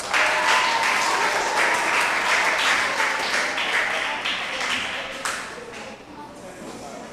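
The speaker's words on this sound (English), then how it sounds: "Please clap for them." Applause at a school spelling contest for the winning spellers, a sustained round of clapping from a room of people that gradually thins and fades toward the end, with faint talk underneath.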